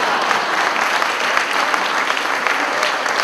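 Loud, steady applause fills the room from a live audience at a Hindi comedy poetry gathering, continuous clapping throughout without pause.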